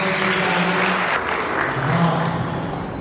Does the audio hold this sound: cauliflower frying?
no